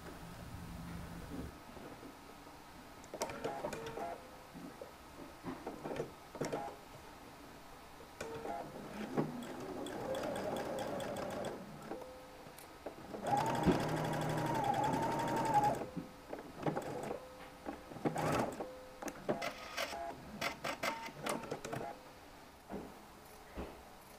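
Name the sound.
sewing machine stitching shirt collar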